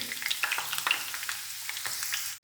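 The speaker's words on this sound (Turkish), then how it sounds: "Şimdi biberlerimi kızartıyorum." Peppers fry in oil in a pan, giving a continuous close crackling sizzle with scattered sharp pops and light stirring, and nobody speaks.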